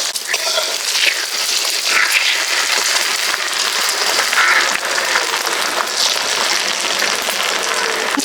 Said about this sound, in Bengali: তেল গরম হয়ে গেছে, এখন ডিম দিয়েছি।